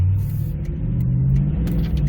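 Toyota Tundra pickup truck with a throttle controller set to Sport Plus pulling onto a road, a loud low engine rumble building as it accelerates, heard from inside the cab without talk.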